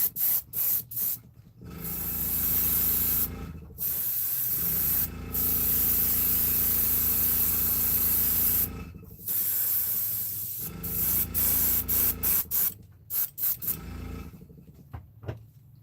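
An Iwata airbrush sprays base coats onto fishing lures in close, loud hissing bursts of varying length, broken by short pauses, with no talking.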